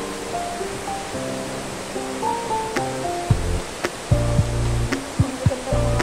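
Steady rushing water flows down inside the dry plant house at Hong Kong Park, a continuous broadband wash with a few deeper thumps and splashes toward the end, nearby and moderately loud.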